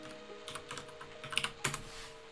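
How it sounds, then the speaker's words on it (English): Quick keystrokes on a computer keyboard while a place name is entered in the 1996 game Elder Scrolls: Daggerfall, a short run of light clicks with a couple of louder taps, no talk. "Now I guess we're going to have to type this exactly"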